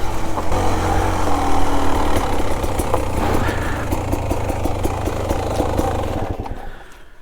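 A Beta Xtrainer 300 dirt bike engine runs steadily and close by, with a low idling throb and clattering mechanical ticks, fading slightly toward the end.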